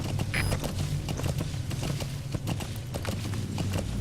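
Horse hooves clip-clopping in Metal Gear Solid 5: The Phantom Pain, a steady rhythmic run of hoof beats over a continuous low rumble of game ambience, moderately loud with no talk.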